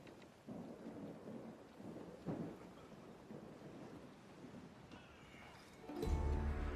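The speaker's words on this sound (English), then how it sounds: "Storms should be intimidating" Thunderstorm in the pirate video game Assassin's Creed Black Flag: steady rain and rolling thunder throughout, with a loud, close thunderclap swelling at the end.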